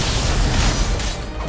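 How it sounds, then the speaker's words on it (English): An ability attack called Judgment Bolt lands in Final Fantasy XVI as a loud, dense burst of booming impact and crackle. It fills the whole moment and carries no talk. "And then should be Judgment Bolt now"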